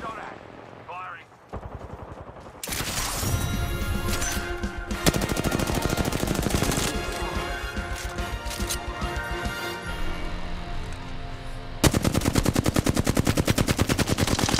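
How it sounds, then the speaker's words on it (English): Heavy automatic gunfire in Apex Legends, long loud bursts of rapid shots with short gaps, close and intense, overlaid with game voice callouts. "Being shot at. Firing."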